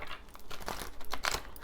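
Tarot cards being shuffled up close, a series of quick papery riffles and slaps in irregular bursts, fairly clear with no talk over them.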